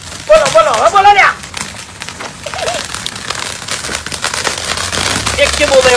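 Firecracker bombs going off outdoors, sharp crackling bursts and pops scattered through the scene, with voices shouting and talking over them.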